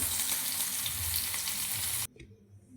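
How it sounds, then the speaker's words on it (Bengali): Soybean chunks fry in oil with a dense, close sizzle for about two seconds, then the sound cuts off abruptly to near quiet. "সয়াবিনটা আমি ভেজে নিচ্ছি"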